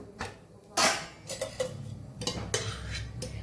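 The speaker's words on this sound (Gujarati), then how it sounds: "પરોઠાની સાઈડ ચેન્જ આપણે કરી લઈશું" A jeera paratha is flipped on a hot tawa griddle, giving a few sharp metallic clanks and scrapes of the spatula against the iron, close and separated by short quiet gaps.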